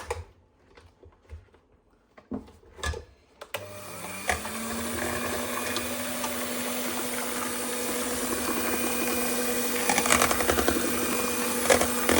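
Electric hand mixer whirring steadily as whipped cream is beaten into a cheesecake mixture, starting after a few seconds of quiet handling knocks and running continuously and fairly loud to the end, with no talking.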